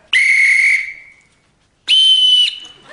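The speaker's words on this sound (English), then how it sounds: "Just learn to blow the whistle for the time being, all right?" Two loud, sharp blasts on a standard-issue council whistle at a leisure centre, the first about 0.7 seconds long and the second shorter after a brief pause.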